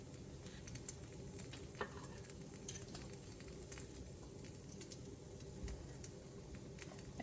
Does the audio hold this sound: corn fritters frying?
yes